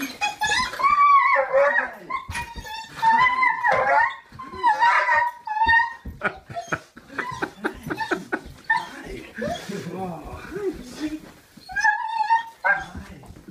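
A dog welcoming a soldier home whimpers and yelps excitedly in high, wavering bursts between short barks, with people talking and laughing around it.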